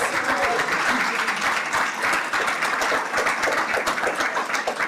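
Sustained applause from a school board meeting audience honoring yearbook staff parents, dense and steady throughout at moderate loudness with no gaps.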